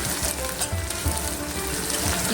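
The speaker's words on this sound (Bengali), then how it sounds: "পেঁয়াজটা দিয়ে দিলাম এখানে আমি চারটে মিডিয়াম সাইজের পেঁয়াজ দিয়েছি পেঁয়াজটা নেড়ে চেড়ে নিচ্ছি" Four medium onions frying in oil for a jackfruit and shrimp dish, giving a dense, even crackling sizzle close up, with faint movement from stirring underneath.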